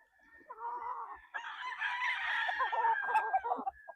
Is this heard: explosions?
no